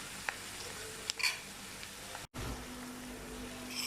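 Masala spices hit frying onions in a pot for a mutton mince curry, and a steady close sizzle carries on with a brief clatter and a sharp cut, then the frying hiss returns.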